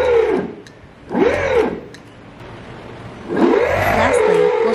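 Electric motors driven by a Spintend Spin-Y2 controller with an ADC adapter, spun up during a motor test: three rising-and-falling whines that swell and fade, fairly loud and close, with no voices.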